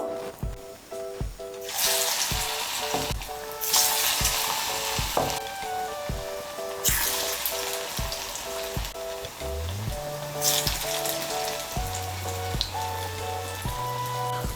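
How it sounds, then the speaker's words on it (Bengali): Fritters fry in mustard oil in a wok with a loud, broad crackling sizzle that swells in waves, close by, alongside a steady background hum and occasional clinks. "কড়াইতে সর্ষের তেল বসিয়েছি। রান্নাটা আমি সর্ষের তেলে করছি। এর মধ্যে আমি বড়াগুলো ভেজে নেব।"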